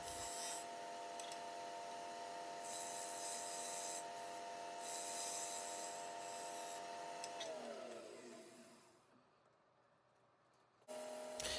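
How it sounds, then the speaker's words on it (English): Sandpaper rubs against spinning wood on a lathe, a steady close abrasive hiss riding on the motor's whine, which winds down and fades toward the end before a sudden loud burst returns. "I just decided to sand a little bit of material off"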